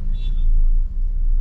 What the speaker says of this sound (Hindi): और यहाँ पे बहुत ट्रैफिक है, मेरे को गाड़ी निकलने को नहीं हो रहा है।